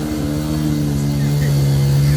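An ATV four-wheeler engine runs at a steady, droning pitch with a persistent rapid tapping from the motor, loud and close.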